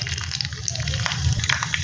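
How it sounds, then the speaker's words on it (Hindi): Mustard seeds and dried red chillies sizzling in hot oil in a pan for a tempering, a dense continuous crackle and hiss, close and fairly loud, with a voice talking over it. "तेल गरम हो जाए तो इसमें डाल दिए राई"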